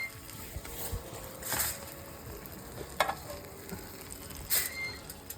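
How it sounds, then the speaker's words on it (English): Venison back strap sears in a skillet after reverse searing in the oven, a quiet steady sizzle broken by a few sharp clinks and scrapes of utensils against the pan. "Reverse sear done in the skillet inside the oven."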